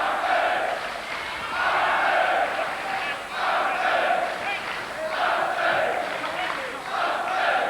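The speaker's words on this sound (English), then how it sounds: "German crowd trying to get behind Schulz and trying to lift him" Boxing crowd in Germany chants and cheers in rhythmic rising waves, a steady roar of many voices filling the arena.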